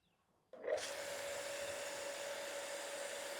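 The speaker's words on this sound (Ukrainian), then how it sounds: "Як тільки дійшов зазначений час, то насосна станція одразу увімкнулася." A Dnipro-M water pumping station switches on with a sudden onset and then runs at a steady, loud motor hum with a constant tone, close by and continuous, with no talking.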